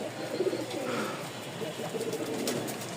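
Racer pigeons, a good-quality pair, coo softly among a loose background of bird sounds, with low murmured calls scattered through the stretch.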